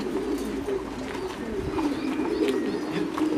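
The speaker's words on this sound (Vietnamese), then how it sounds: "Những cặp đây là cặp chim bồ câu" A group of pigeons coos continuously from close range, low throaty murmurs that overlap one another in a dense, steady chorus. No voices are heard.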